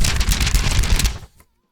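Paper notes shuffled and tapped on a desk, a loud dense burst of rustling and knocking lasting about a second before dropping off to quiet.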